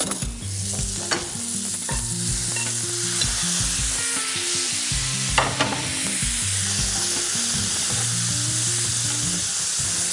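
Hearts and kidneys fry with garlic and ginger in a pan, a loud constant sizzle with a few sharp scraping and clattering strokes, while a low tonal pattern plays underneath.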